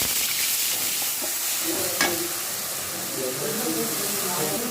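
A ground paste of onion, coriander, mint and green chilli is tempered in a hot pan. It gives a loud, steady sizzle and hiss, with faint scraping from stirring.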